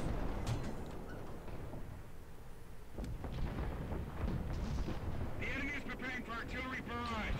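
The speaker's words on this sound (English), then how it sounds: "Hey, artillery's doing some work." Artillery shelling in War Thunder, a string of booming blasts and sharp cracks across the battlefield, with a player talking over much of it.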